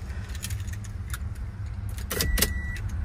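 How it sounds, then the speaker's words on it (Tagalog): Opening a 2015 Toyota Tundra pickup truck: sharp mechanical clicks and a latch clack, with a brief electronic chime, over a low steady idle rumble. "Open natin yung truck"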